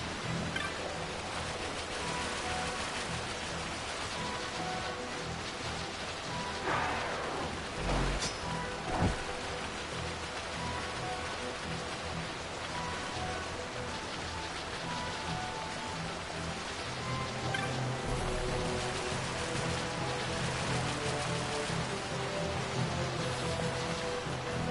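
Heavy rain in Final Fantasy 12, a steady hiss of downpour lasting throughout with a couple of brief louder bursts and faint background tones.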